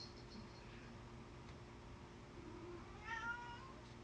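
A pet cat gives a single short meow near the end, faint and close, over a steady low hum of background noise.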